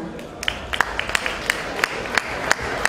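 Scattered clapping greets the introduction of a gospel singer at an African event. A few distinct claps ring out in a loose rhythm over a low murmur of crowd and voices.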